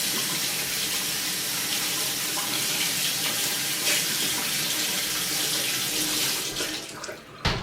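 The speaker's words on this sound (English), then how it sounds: "I'm gonna rinse my salmon under just like lukewarm water" Skinless salmon rinsed under running lukewarm tap water in a kitchen sink, a steady loud splashing rush of water that continues for several seconds and cuts off near the end.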